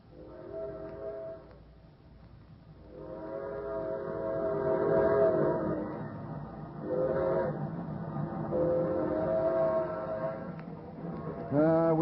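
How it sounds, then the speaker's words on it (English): A train glides past in the open West, its horn or whistle sounding in long sustained blasts over a rumbling run, fading and returning before a final sharp call. "We don't get to see a train very often."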